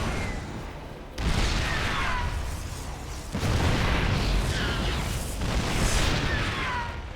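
Siege tank cannon fire hitting a Stalker in a StarCraft 2 Terran versus Protoss match, heard as a few loud booming blasts with sustained rumbling noise between them, no talk over it.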